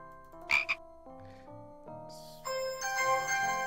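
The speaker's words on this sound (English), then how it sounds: "Frog." A frog in the Discworld video game gives a couple of sharp, close croaks, followed by tinkling chime-like tones and a rising, bright musical flourish.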